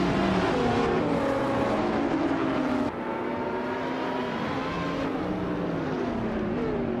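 Supercars, led by a 2012 Zenbos T1, race at Bahrain in a video game, with several engines droning and whining together, pitches sliding as they shift gears, loud and steady throughout without any voices.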